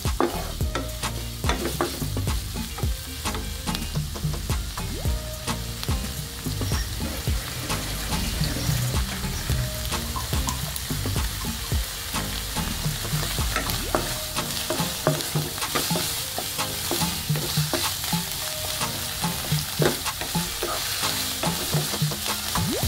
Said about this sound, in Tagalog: Gigisa natin maigi ang ating alamang.